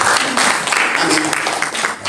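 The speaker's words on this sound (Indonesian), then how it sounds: "Berikan tepuk tangan." A church congregation claps briefly, a short burst of applause mixed with voices during a preacher's sermon at a fasting prayer gathering on a mountain.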